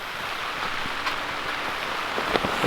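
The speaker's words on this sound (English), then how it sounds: "a rain like this" Light rain falls steadily with a soft, even hiss and a few scattered drops tapping nearby, with no voices.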